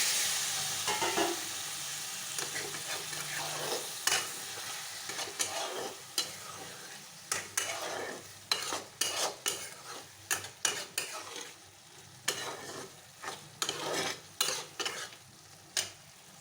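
Fried soybeans and boiled potatoes being stirred into an egg and soybean curry, with a soft sizzle under repeated scraping and clinking of a spoon against the pan that grows sharper and more frequent toward the end.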